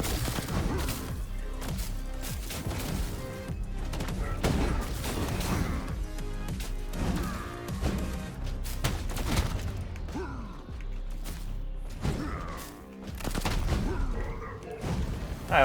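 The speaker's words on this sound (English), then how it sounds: "We're just gonna shoot it up." Gunfire in the video game Kiborg as an enemy is shot at, rendered as a dense, loud run of booming shots and impacts that continues almost without pause.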